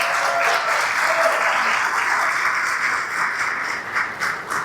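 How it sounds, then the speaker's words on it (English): A room full of people claps steadily in a warm round of applause for hardworking staff at a regional chamber of commerce awards celebration, the dense clapping holding loud and even before thinning slightly at the end. "please give Jen and Darlene a round of applause for all their efforts"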